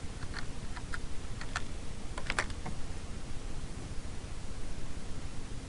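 Several quick bursts of keyboard typing, close and fairly crisp, with short pauses between them against a faint hiss; no voices.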